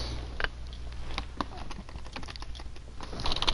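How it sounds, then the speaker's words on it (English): Computer keyboard keys clatter in quick, uneven bursts during a gaming stream, close and fairly quiet, with a low steady hum underneath. "ASMR of keyboard."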